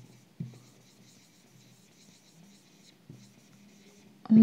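Chalk or marker scratches and taps on a board in short strokes during a classroom lesson, quiet and close. A louder knock comes near the end, and there is no speech.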